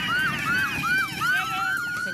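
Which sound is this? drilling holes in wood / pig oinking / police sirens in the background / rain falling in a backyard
police sirens in the background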